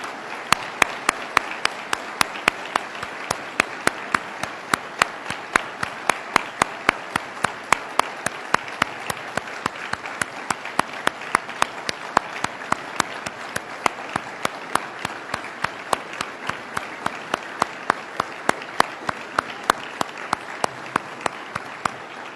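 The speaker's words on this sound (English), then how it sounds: "I'd ask them to stand today and to give them a round of applause." An audience at a governor's budget address in Clinton County gives sustained applause for fire department and EMT representatives, a dense, even wash of clapping lasting over twenty seconds with no talk over it.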